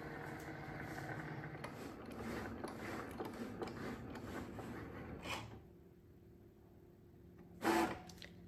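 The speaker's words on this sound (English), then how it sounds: "action complete, okay, and then we can unload a machine and it would have cut out lovely ribbons ready to go" A Cricut cutting machine cuts ribbons with a quiet, steady whir and mechanical clicking that stops midway, leaving near silence before a short final whirring burst.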